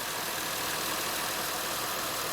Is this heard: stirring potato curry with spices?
no